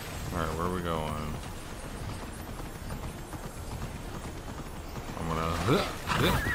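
Rhythmic hoofbeats of a galloping horse in the video game Immortals Fenyx Rising run steadily under a man's speech at the start and end, with game ambience in between.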